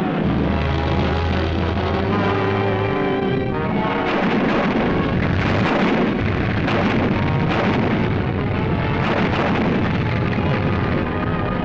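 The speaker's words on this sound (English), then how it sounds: "Canadian guns fire in support." Canadian artillery guns fire in support of a British push toward Arnhem in a 1945 wartime newsreel, a dense, continuous rumble of booms and blasts that stays loud throughout, without a break.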